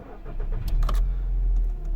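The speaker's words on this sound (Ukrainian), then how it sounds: "Без проблем автомобіль завівся" A 2009 VW Golf V 1.6 MPI petrol engine at 207,000 km, cold, cranks with a short whirring starter burst, then catches and settles into a steady low idle, close by.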